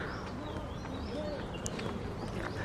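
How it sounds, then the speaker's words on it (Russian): Birds sing along a roadside, with faint chirps and soft cooing calls drifting from a distance over a steady low background hiss. "птицы поют очень красиво"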